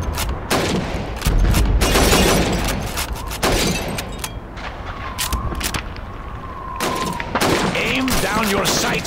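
Rifle shots cracking at bottles and plates on a Red Army training shooting range in Call of Duty 2, loud, irregular reports with shattering glass and ceramic and a ringing ping between shots.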